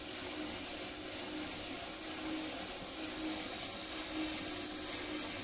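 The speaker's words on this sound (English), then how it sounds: "Tighten the drill up. And then, yeah, so you would run at this kind of speed," A power drill drives a homemade coil winder for winding 12-volt wind turbine coils, giving a steady, continuous whirring hum at a constant speed for several seconds with no talk over it.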